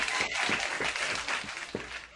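A studio audience breaks into applause, a dense sustained wash of clapping from many hands, loud and continuous throughout.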